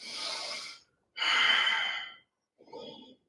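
A demonstration of shallow chest breathing: two long, breathy inhalation and exhalation sounds, then a shorter softer breath, close and alone with no talk.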